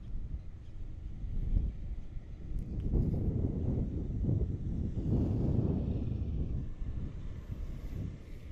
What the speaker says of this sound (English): as the wind starts to kick up